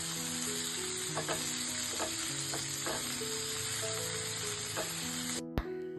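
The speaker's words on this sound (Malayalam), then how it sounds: "എന്നിട്ട് വീണ്ടും നല്ലപോലെ ഒന്ന് വഴറ്റിയെടുക്കാം" Chopped tomato and onions sauté in a hot pan with a steady, close sizzle, broken by occasional soft stirring clinks, and a sharp knock near the end.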